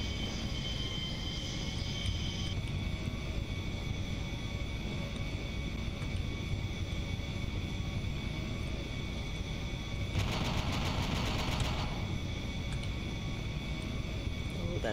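Me262 jet aircraft in BeamNG Drive flying with one engine missing, a continuous engine drone with steady tonal whine, a harsh burst of crackling noise partway through, and a voice talking over it at times.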